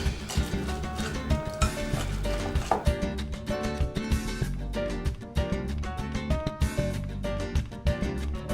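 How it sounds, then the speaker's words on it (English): Empanada filling with cilantro being mixed by hand, a steady run of close rubbing, squishing and stirring noises with soft clicks, busy and continuous throughout, no talking. "All right, now we're gonna mix this all up."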